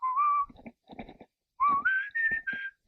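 A man whistles outdoors in deep dark bush, two short rising melodic phrases close to the listener separated by a pause, with soft breathy gaps between notes.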